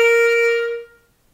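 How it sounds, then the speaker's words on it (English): A single clarinet C, reached by adding the register key to a low F fingering, rings out bright and steady for under a second before cutting off, played solo and close. "If I add the register key, it'll pop it up to a C."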